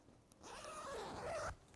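A concealed zipper on a handmade dress is pulled up in one smooth, close rasping stroke lasting about a second, with no other sounds.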